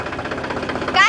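A tractor engine idles with a rhythmic, knocking chug, close by and fairly loud. A voice cuts in briefly at the end.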